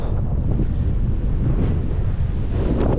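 Spring wind blows hard and continuously, roaring loud and close against the microphone. No voices can be heard.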